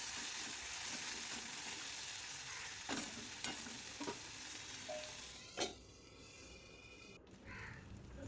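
Onion paste and chopped tomato frying in a pan make a soft, low sizzle, with a few distinct clinks and scrapes of stirring.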